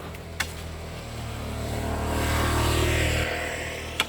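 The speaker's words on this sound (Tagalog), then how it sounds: "May motor, tabi-tabi po." A motorcycle passes along a village street, its engine swelling as it draws near and fading away, with brief sharp clicks at start and end.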